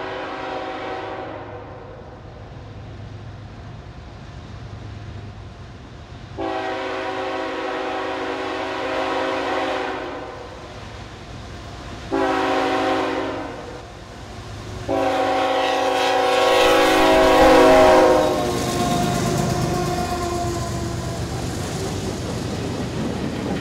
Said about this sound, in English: Check out the variety of motive power hauling this southbound manifest.